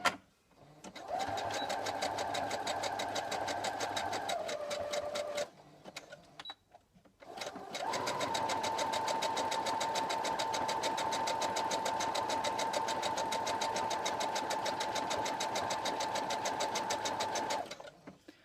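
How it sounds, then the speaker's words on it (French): A sewing machine stitches a zigzag seam along a traced line on fabric scraps, running steadily in two long bursts separated by a short pause, loud and close with no talking. "vous vous mettez sur votre tracé et vous faites votre point zigzag"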